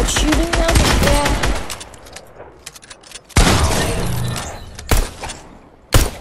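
Video game gunfire in sharp bursts, loud and close, with dense rapid shots at the start, a long volley from mid-clip and single sharp cracks near the end, while players talk over it.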